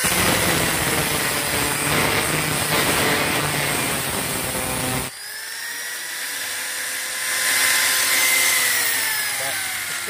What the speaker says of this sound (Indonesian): ini kita gerinda di sini.